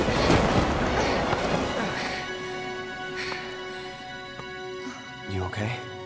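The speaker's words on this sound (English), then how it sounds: "this train is still moving fast as hell" A fast-moving train in the video game Final Fantasy VII Remake, loud rumbling rail noise strongest at the start and easing off, with voices and tonal effects over it later.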